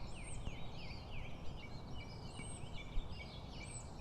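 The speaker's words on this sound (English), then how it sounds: "Only me and the birds." Outdoors, several birds call repeatedly with gobbling, warbling notes over a steady breezy background, fairly faint and slightly distant.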